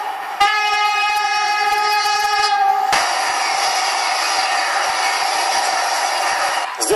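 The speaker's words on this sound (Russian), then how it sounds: "И когда здесь проносится Сапсан," A Sapsan high-speed train sounds a loud multi-tone horn, then roars past close by at a railway crossing, a sustained rushing wheel-and-air noise with faint rhythmic clicks.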